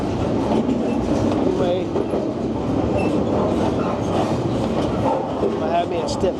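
A train rumbles past close behind a vehicle stalled on a hill, with loud continuous clickety-clack and rolling wheel noise throughout; a voice speaks briefly.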